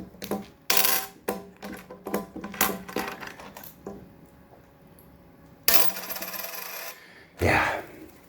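A parrot tosses coins around, sending a run of bright metallic clinks and jingles as they drop, scatter and rattle on a hard surface, close by and with no talk.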